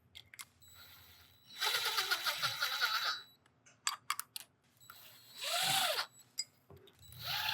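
A power tool with a 1/2 inch socket bit drives bolts into a benchtop system pump head, two loud sustained whirring bursts of about a second and a half each with short clicks and knocks between them.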